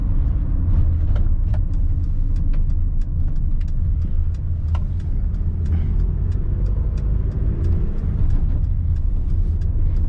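A tow truck driving along a road, its engine rumbling low and steady throughout with continuous road noise, riding smoothly and comfortably like a car.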